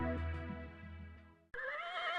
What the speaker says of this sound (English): this horse is sure of the Arabian breed